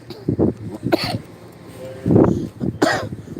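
A person coughs in several harsh bursts, a pair of quick coughs followed by a gap and then two more heavier, throaty coughs, close to the microphone with no talking.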